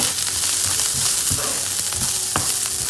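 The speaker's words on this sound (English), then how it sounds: "And then I'm going to start adding the vegetables, the chopped beans, carrots, and the peas. Saute the vegetables." Chopped beans, carrots and peas sauté in a hot pan with a steady, close sizzle and frying crackle, broken by a few louder stirring scrapes and knocks.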